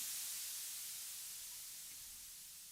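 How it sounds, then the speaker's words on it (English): White noise from an analog drum synth with a long decay fades slowly as a soft, bright hiss, sounding alone and growing gradually fainter over a few seconds. "there's a lot of decay on the white noise"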